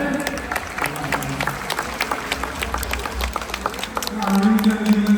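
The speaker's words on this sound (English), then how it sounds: "Let's give her a big round of applause for that." Audience applause at a zoo show in Singapore, a dense patter of clapping from a crowd that grows louder toward the end, with background chatter.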